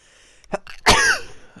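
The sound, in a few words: sneeze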